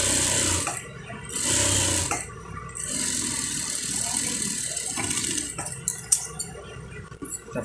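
A sewing machine stitches the band of a shirt collar in short bursts of rapid whirring, with quiet pauses between runs and light handling clicks near the end.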